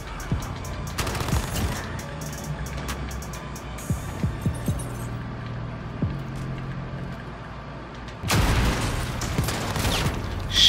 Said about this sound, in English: Shotgun, oh my.